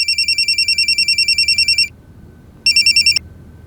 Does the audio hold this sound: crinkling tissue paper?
no